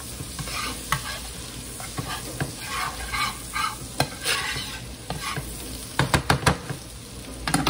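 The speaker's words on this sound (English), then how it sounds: "Just keep on stirring it around. You want to get that garlic flavor into the shrimps." Garlic sizzles and fries in a pan while being stirred. A soft, steady crackle runs underneath, and clicks and scrapes from the utensil come through, with a cluster of sharper scrapes near the end.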